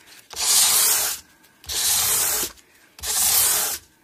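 Sandpaper rubs across an Antoria Rock Star guitar body in three long, even strokes, each a loud, close, hissing scrape of under a second, with brief quiet gaps between them and no voices.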